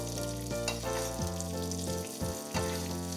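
Pork chop frying in very hot oil for a Milanese, giving a loud continuous sizzle with bubbling crackle and a few pops and shifts as the meat is tilted in the pan.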